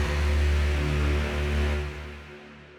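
Dune-inspired sampled sound layered with a saturated Serum synth, a dense sustained drone with deep pulsing low end and a bright, gritty upper haze, holding steady before thinning out near the end.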